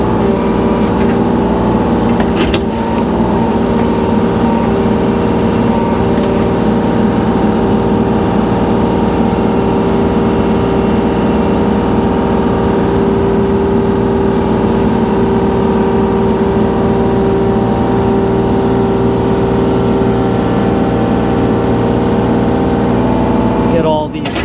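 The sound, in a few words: Kubota tractor engine running while grappling logs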